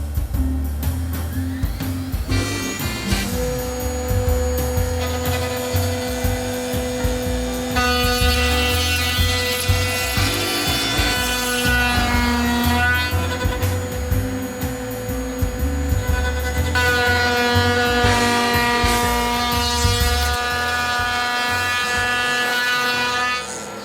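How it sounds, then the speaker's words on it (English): A 6090 CNC router moves under manual pendant control, its stepper motors whining in steady tonal bursts that shift pitch and stop and start, close and moderately loud with an underlying hum and no talking. "this does give me the opportunity to show you operating this CNC machine with the pendant in manual mode"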